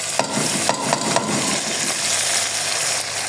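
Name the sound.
garlic, ginger and chilli paste frying with meat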